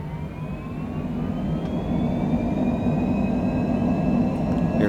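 Longitude business jet's engines roaring steadily as it rolls down the Haneda runway for takeoff in a flight simulator game, a loud continuous whine and rumble rising slightly with faint tonal whistles.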